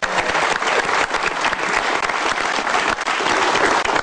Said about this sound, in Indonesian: Tepuk tangan untuk Ibu Titu.